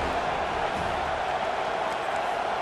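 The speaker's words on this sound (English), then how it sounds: "Decibels rising as the crowd gets behind this defense on third down." Stadium crowd in the EA Sports College Football video game, Ohio State at FSU, a dense, continuous roar swelling on a third-down defensive stand, loud and sustained with no gaps.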